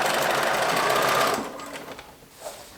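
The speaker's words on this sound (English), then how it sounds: "That little edge of the facing, just give it a little top stitch just because it looks so much neater." A sewing machine top stitches the facing edge of a tropical shirt, running in a fast, steady whir for over a second, then slowing to a few shorter bursts, close and clear with no talking.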